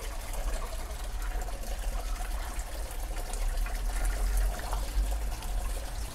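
Coolant flush water flows steadily out of a car radiator's expansion tank, a continuous trickling and gushing under a low hum.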